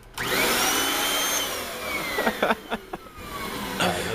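A Kirby Sentria 2 vacuum cleaner blows exhaust air in a loud, steady whoosh with a high whine, joined midway by a few short knocks and clatters before the airflow carries on.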